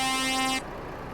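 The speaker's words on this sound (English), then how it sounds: "Air horn." A truck air horn sounds in a trucking video game: one loud, steady, harmonically rich blast that holds for about half a second, then cuts off abruptly into quiet rumble.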